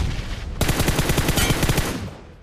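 Rapid automatic gunfire in the mobile shooter BGMI rattles off in a dense, sustained burst of about a second and a half, loud and close, after a brief quieter lead-in.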